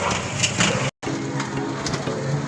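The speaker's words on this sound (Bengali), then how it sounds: "তার মধ্যে খুব বৃষ্টি হচ্ছে" Heavy rain falling during a cycle-rickshaw ride toward Jadavpur station: a dense, steady hiss of downpour close by, with one brief moment of silence partway through.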